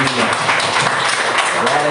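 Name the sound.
congregation applauding in church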